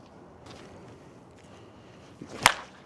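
Swing and hit with a USSSA slowpitch bat, a Juno Athletics UTH33 MR-1 with PAN-M35J barrel, heard as one sharp, loud crack near the end after faint whooshing movement, no voices.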